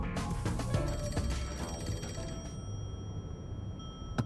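An old telephone rings in the video game Rain Code, a bright rattling bell repeating in bursts at the start and then fading, heard over a steady ambient background with no talking.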